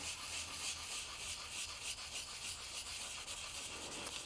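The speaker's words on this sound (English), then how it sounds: "So make it all sparkly and rub that glitter in there" Glitter being rubbed firmly into finished cardstock on a sparkly butterfly aperture card, a steady close scratchy rasping friction that continues without a break.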